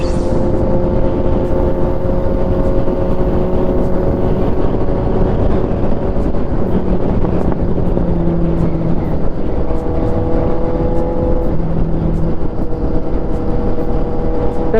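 A Suzuki GSX750 motorcycle runs with a steady, loud engine and exhaust drone that shifts pitch slightly as it rides along, continuous and close throughout.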